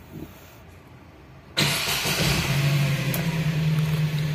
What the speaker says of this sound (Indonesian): Kita coba nyalakan.